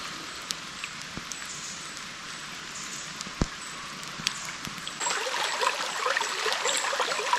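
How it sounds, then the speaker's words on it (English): Light rain patters down under fir trees beside water during a motorcycle camping trip, a soft steady hiss with scattered drops that grows a little louder partway through. "Starting to rain a little."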